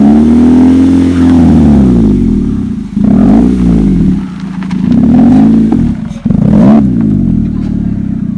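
A Maruti Ciaz engine fitted with a valvetronic exhaust cutout revs hard and loud, rising and falling in repeated pulls with a throaty, raspy exhaust note close by.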